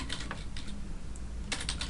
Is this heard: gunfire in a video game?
no